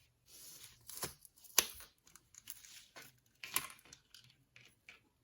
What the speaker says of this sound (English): First, I'm going to cut my pepper in half.